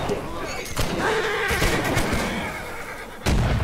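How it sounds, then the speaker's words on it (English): A horse whinnies loudly and close up amid a battle in the video game Holdfast, with gunfire and a noisy chaotic background, and players talk over it. "Another horse, another horse!"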